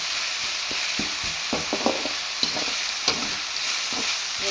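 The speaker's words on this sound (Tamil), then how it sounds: "இப்போ இஞ்சி பூண்டு பேஸ்ட் வந்து ஒரு டேபிள் ஸ்பூன் அளவுக்கு ஆட் பண்ணியிருக்கேன்" Ginger garlic paste sautéing in a pan for a spicy banana fry, a soft steady sizzle with scattered scraping and stirring knocks from a spoon, close and fairly quiet, no voices.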